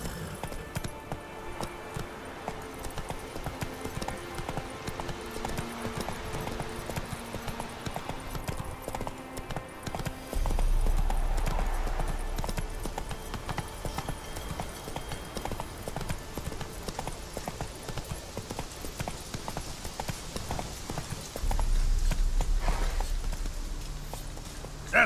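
Horse hooves galloping across terrain in The Witcher 3, a steady rapid clip-clop rhythm under game ambience, with a couple of deep low thumps breaking in.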